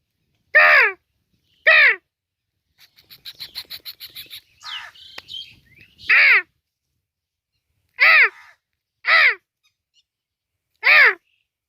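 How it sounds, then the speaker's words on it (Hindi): A crow caws from a tree in six loud, harsh calls, spaced irregularly with silence between them and a softer run of quick bird chatter in the middle. "देखिए कौवा कह रहा है हाँ"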